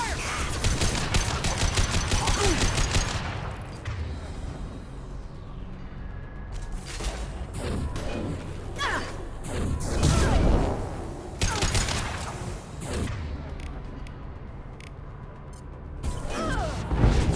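Gunfire in Mass Effect 2 on Insanity difficulty comes as bursts of rapid automatic fire and heavy shots, with sustained volleys broken by short pauses and a few impacts, and brief game voices over it.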